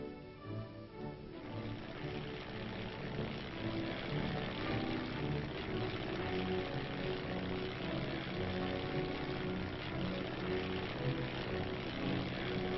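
Steady propeller-driven engine drone from a reconnaissance aircraft, a continuous loud hum with layered harmonic tones holding throughout, with no voices.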